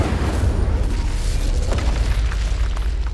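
Confringo and Incendio spell blasts going off in the Hogwarts Legacy video game, with heavy booming explosive bursts and crackling fiery impacts that stay loud and dense across the whole stretch.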